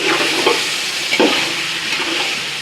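Chicken biryani masala stirred and dry-roasted in a pan with salt, a steady close sizzle of frying broken by a few louder scraping stirs of the spoon, with no voices.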